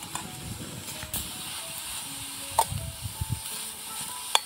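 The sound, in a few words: beetroot carrot halwa stirred and roasted in ghee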